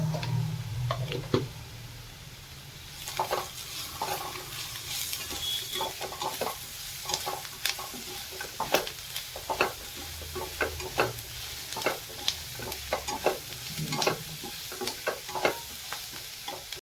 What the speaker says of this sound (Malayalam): രണ്ട് ചെറിയ തക്കാളിയാണ് കേട്ടോ ഇനി അത് ഒന്ന് വെന്ത് വരണം